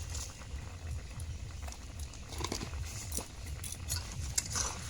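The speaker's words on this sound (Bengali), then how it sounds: "টকটা আমি দু মিনিট ফুটিয়ে নিয়েছি" A pot of sour fish sauce simmers on the stove with soft, continuous bubbling and low patter, close and quiet, without any voice.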